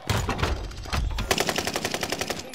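Machine gun fire in a video game, a battle royale round: bursts of rapid shots, a dense run in the first second, then a steady string of evenly spaced rounds, loud and close, with no talk.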